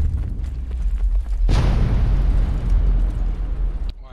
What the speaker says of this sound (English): Oh, massive explosion behind us. It finally crashed.